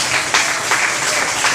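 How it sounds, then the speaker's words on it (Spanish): Short round of congregational applause in a church service, a full steady clapping sound from a gathered crowd with faint rhythmic pulses. "¿Cuántos le pueden dar un aplauso al Señor?"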